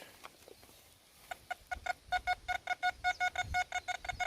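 XP ORX metal detector at an old miners camp signalling iron targets: a rapid series of short, evenly spaced electronic beeps that speeds up into a steady chirping rhythm, fairly faint over quiet outdoor background.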